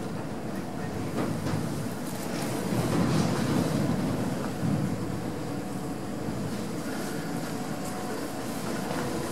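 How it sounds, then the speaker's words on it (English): Big air conditioning motors and water pumps running in a tower block plant room, a steady low mechanical hum and broadband rumble with a faint tonal drone, constant and enclosed throughout. "And there is the air conditioning big motor thingies."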